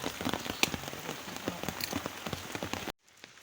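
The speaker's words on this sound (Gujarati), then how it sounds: "જો કે વરસાદ ચાલુ છે અત્યારે" Heavy rain pours steadily onto surfaces in a rural Gujarati village setting, a dense close hiss with scattered louder drop impacts, stopping abruptly near the end into near silence.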